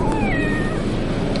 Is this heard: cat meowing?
yes